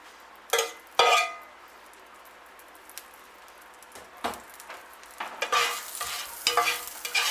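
A little margarine or butter is scraped across a pan for choc chip pikelets: a few sharp scraping strokes, then a soft, growing sizzle with light clatter. No voices.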